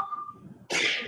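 A short, sharp sneeze bursts out suddenly after a faint tone and some quiet background noise. It comes through loud and close, from someone who is ill.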